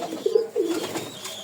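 Pigeons coo at close range in a pet-bird setting, a few low throaty rolling calls in a short run, loud and clear with no talk over them.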